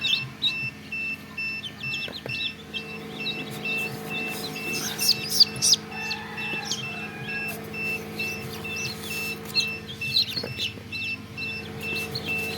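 Tiger chicken chicks peep and chirp in short bursts, high and repeated, over a steady low hum, with scattered louder cheeps close by and no speech.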